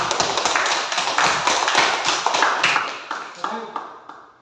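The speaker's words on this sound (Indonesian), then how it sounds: "Ayo kita berikan aplaus biar kita tambah semangat." Classroom applause from a group of students, a dense run of many hands clapping close by that swells and then thins out, with scattered claps trailing off at the end.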